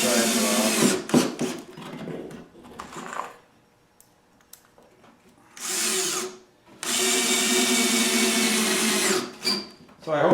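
A power drill drives hex-drive screws into a plywood upper kitchen cabinet in several bursts of high whirring. The bursts are separated by pauses and small handling clicks, and one longer run stops near the end.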